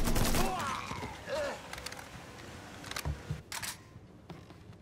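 Automatic rifle gunfire in the video game Mafia 3, several sharp bursts of shots and impacts over a few seconds, fairly loud with game effects in between.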